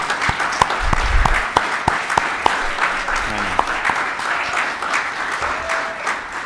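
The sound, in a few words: applause for the pediatric committee chair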